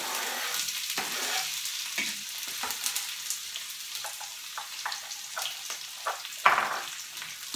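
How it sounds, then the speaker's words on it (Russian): Onion and garlic sizzle and crackle steadily in a hot frying pan for an aquatic-free, close, continuous hiss with small pops and a few stirring clinks, no voices. "И в разогретую сковородку кидаем лук"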